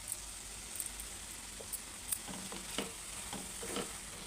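Prawn curry being stirred with garam masala and coriander leaves in a pan, with soft scraping spoon strokes and a faint sizzle running steadily underneath.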